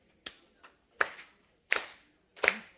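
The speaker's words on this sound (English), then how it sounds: "We're going to start with the clap." A church congregation claps, starting with a few scattered soft claps and then building to four sharp, louder group claps spaced about three-quarters of a second apart in a quiet room.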